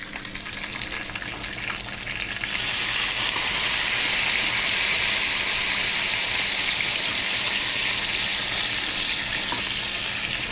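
Water pours into a hot cooking pan holding miso, starting quietly and swelling into a steady loud gushing sizzle that runs unbroken to the end, with no voices over it.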